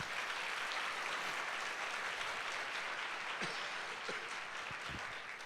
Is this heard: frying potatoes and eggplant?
no